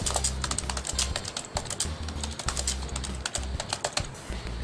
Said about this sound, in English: using a standard keyboard I can also type some content here